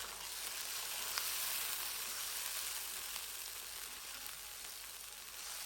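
Onions frying in a pan for a home-style duck curry, a steady close hiss and sizzle of oil that holds evenly throughout with no talking.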